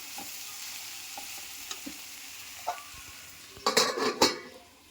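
Moringa drumstick pods fry in a pan with chili powder, a soft steady sizzle under occasional stirring scrapes, and a burst of loud metal utensil clinks against the pan near the end.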